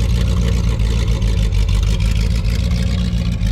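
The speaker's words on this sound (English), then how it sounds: "this guy has a 440 cubic inch engine." A 1978 Dodge D150 Adventurer pickup's 440 Magnum V8 idles with a steady, deep, throaty rumble, loud and close, with no voices.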